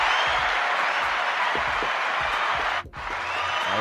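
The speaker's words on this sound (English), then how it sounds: "round of applause for the guy" An audience gives a round of applause, a dense burst of clapping from a crowd that carries steadily, with a brief dip near the end.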